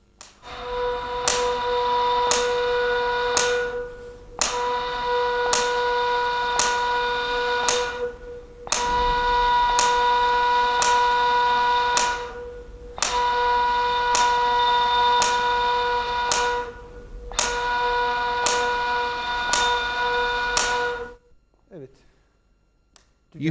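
A ney flute sounds the duga (la) note in repeated held tones, grouped into four phrases with short breaks, while a steady metronome ticks along throughout.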